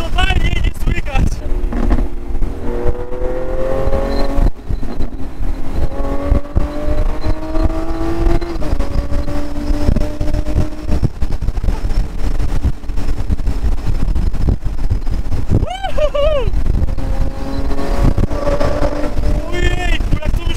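A Lamborghini Aventador SVJ accelerates hard in a tunnel, its engine note climbing repeatedly through rising revs with brief drops at gear changes, loud under wind rush and muffled cabin noise.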